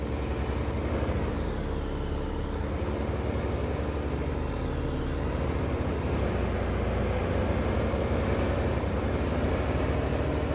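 A tractor engine driving in Farming Simulator 15, a steady loud low drone with a rising and falling whine, continuous and close throughout.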